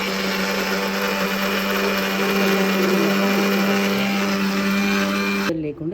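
A kitchen mixer grinder whirring loudly and steadily while grinding chili and spices for bhindi pulusu, a continuous high motor whine that cuts off abruptly near the end.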